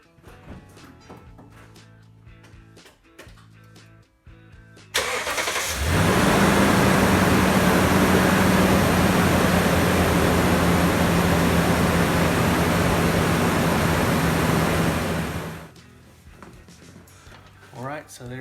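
A 2011 Toyota Tundra with the 5.7L V8 cranks and fires, then settles into a loud, steady idle for about ten seconds before being shut off, with quieter workshop sounds around it.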